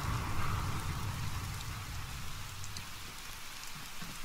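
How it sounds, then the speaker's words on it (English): Modded rain falls steadily in Fallout 4, a dense, even hiss of drops on surfaces, continuous and moderately loud with no voices. "I'm glad I turned that rain down, though, because it's kind of like a perfect level for me now."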